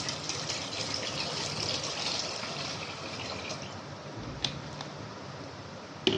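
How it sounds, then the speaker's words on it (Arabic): Water pours steadily from a bottle into a cooking pot that will be used to boil sweet potatoes. The stream is continuous, with a couple of small clinks near the end, and nobody speaks. "هنحط فيها شويه من الميه"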